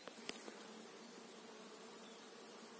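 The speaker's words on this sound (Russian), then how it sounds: "Вой стоит. Пчелы работают на малине." Bees buzz steadily while working raspberry flowers near swarm traps, a low continuous drone of many insects at a moderate distance, faint and unbroken, with a couple of brief louder passes early on and no talking.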